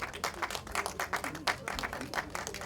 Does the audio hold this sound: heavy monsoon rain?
no